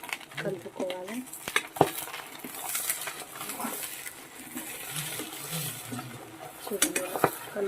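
Goat brain fry being stirred gently in a pan on a slow flame, faint scraping and clinking of a spoon against metal with a soft sizzle underneath and a voice talking over it.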